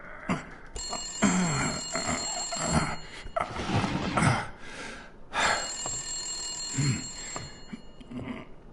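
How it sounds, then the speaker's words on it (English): A telephone rings twice in the noir detective game Blacksad, with bright, trilling bell bursts standing over a busy mix of game ambience and effects. "the phone is ringing"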